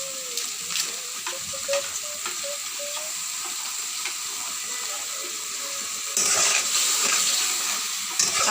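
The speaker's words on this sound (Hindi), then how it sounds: "अब हमने इसे अच्छी तरह मिक्स कर देना है। ये अच्छी तरह हम भून लेंगे।" Food being stirred and fried in a pan, with a steady sizzle and scraping spoon strokes throughout that grow louder and brighter toward the end.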